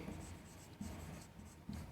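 Chalk or marker scratching on a classroom board during a math lesson on polynomial division, heard as soft, close strokes in short bursts about once a second over a steady room hiss, with no talking.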